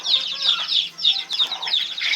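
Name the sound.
Rhode Island Red cross chicks clucking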